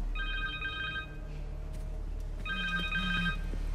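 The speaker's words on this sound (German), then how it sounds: "Telefon." A telephone rings in the video game Marvel's Spider-Man 2, two bursts of trilling electronic ringing over a low ambient hum, with a brief voice-like sound between the rings.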